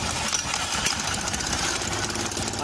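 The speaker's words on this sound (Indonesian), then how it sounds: "Kita coba starter dulu ya." Honda Beat scooter with an intermittent starter dynamo fault, its engine turning over with a steady, close, mechanical churn that keeps going without pause.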